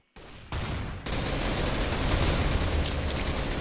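Rapid automatic gunfire in a Minecraft Mineplex Counter-Strike game mode, starting with a short burst and then becoming a dense, continuous fusillade of loud shots.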